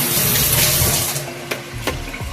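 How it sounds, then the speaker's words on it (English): Hands being rinsed under a steady stream from a running kitchen tap, a continuous close splashing hiss with a couple of brief sharper splashes as the hands move through the water, no talking. "Wash my hands off."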